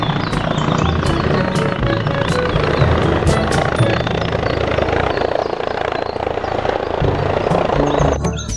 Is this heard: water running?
no